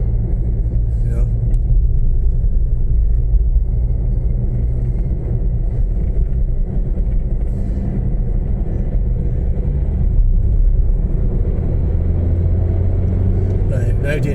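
A car moves along at 48 mph on a windy day, a steady low road rumble and wind buffeting the cabin throughout, with someone talking over it.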